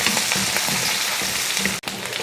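Hot oil in a kadai sizzles loudly and steadily as onion and fennel seeds sauté, with light stirring knocks and a brief drop out near the end.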